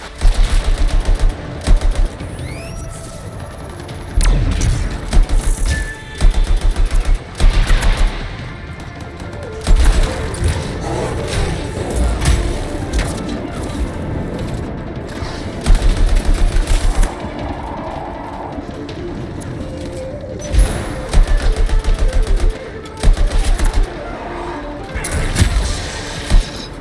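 Gunfire in the video game Anthem comes in loud, repeated bursts of rapid shots and impacts, broken by quieter stretches of combat noise, with occasional voices in between.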